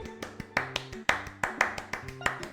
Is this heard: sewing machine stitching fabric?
no